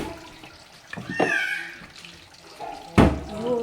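Water runs from a kitchen tap to wash rice, a soft splashing flow that rises and falls, with a sharper splash toward the end and no talking.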